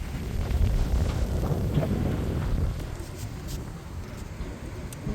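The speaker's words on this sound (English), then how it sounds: "It's really windy." Strong wind gusting outdoors beside train tracks buffets the microphone in a loud, rumbling roar that eases off slightly after a few seconds, with no voices.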